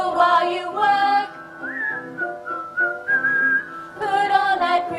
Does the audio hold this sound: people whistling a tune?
yes